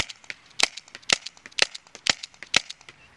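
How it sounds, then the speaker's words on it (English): Six sharp, loud shots from a T4E .50 cal TR50 paintball revolver, evenly spaced about half a second apart, each a crisp pop with small clicks in between and no talking. "I'll shoot the 6 shots"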